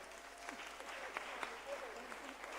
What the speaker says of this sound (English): You have to clap for them.